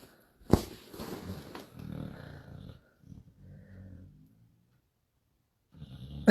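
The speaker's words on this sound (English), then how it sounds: "Actually, my dog's snoring." A dog snores and grumbles in slow, rough breaths, close by, with low rumbling exhales and brief pauses between them.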